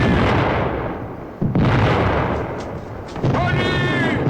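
Ship cannons fire in a battle scene from the 1982 Russian film series Young Russia, heard as loud, dense booming blasts with a sharp new burst near the middle and another near the end, mixed with battle noise and shouting voices.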